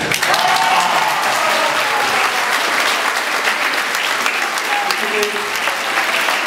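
An audience at a live show breaks into loud, sustained applause, dense and continuous clapping that fills the whole stretch without letup.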